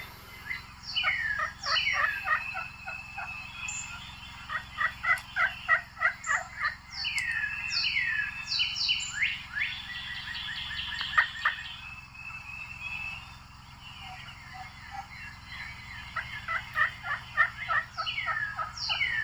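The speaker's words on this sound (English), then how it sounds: "Early morning tree yelping." Soft, quick series of recorded wild turkey hen tree yelps, clustered in short runs with pauses, joined by other birds chirping in a quiet early-morning setting.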